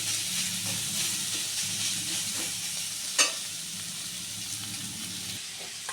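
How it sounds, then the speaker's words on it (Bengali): Potato chops deep-frying in hot oil for Bengali aloo chop, a steady close sizzle and bubbling hiss that runs throughout with one brief sharp crackle partway through. "লাল লাল করে ভাজা হবে"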